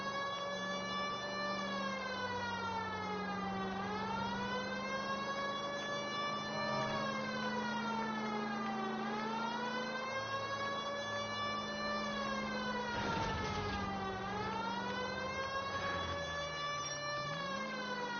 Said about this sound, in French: pourquoi la sirène elle me fait mal aux oreilles?